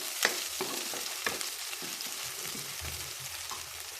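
Chopped onions sizzle steadily in hot oil as they fry toward brown, with a few sharp clicks of stirring against the pan early on and a low thump near the end.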